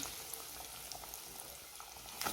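Ground-meat balls frying in oil, a continuous soft bubbling crackle, fairly faint and even throughout with a slight rise near the end, no voices.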